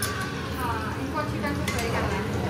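Spices hitting hot oil in a sizzling tadka for Kashmiri dum aloo, a continuous close hiss and crackle with light clinks of a spoon stirring in the pan.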